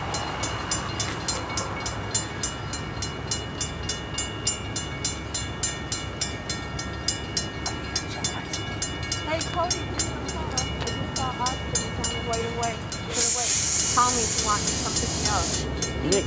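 A Metra commuter train rumbles and squeals with rail clatter, brakes hissing as it slows near the Wood Dale platform, with faint voices underneath.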